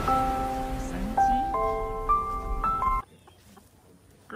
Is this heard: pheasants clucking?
yes